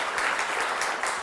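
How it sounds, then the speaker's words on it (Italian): A studio audience at an Italian children's quiz show applauds the teachers, a brief, steady burst of massed clapping that sounds moderately close and continues throughout. "fare un applauso alle vostre insegnanti qui in studio"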